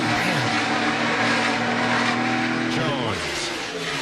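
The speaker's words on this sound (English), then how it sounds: "you can hear he already started losing grip," A NASCAR race car engine at Texas or Michigan loud and close as the driver lifts off the throttle while losing grip, the engine pitch dropping toward the end, with commentators talking over it.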